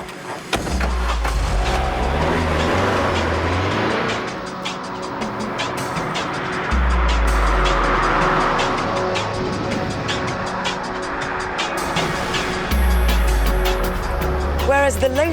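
A Vauxhall VX200 sports car with a 2-litre turbocharged engine drives past, its steady low drone rising and falling in surges beneath a busy, layered mix of other sound.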